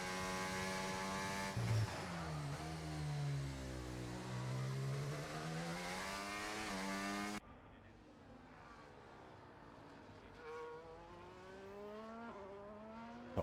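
An Alpine race car on a warm-up lap, its engine rising and falling through gears with sweeping pitch changes, loud and close at first, then more distant and quieter as it moves away.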